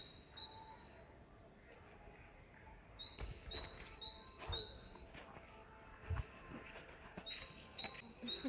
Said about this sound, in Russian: Белочки бегают и птички разные.